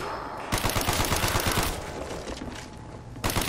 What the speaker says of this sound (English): Did you shoot him off the wall or something?